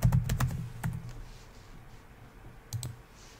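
A computer keyboard is tapped to enter a password: a quick burst of crisp key clicks, a pause, then a couple more keystrokes, close and alone.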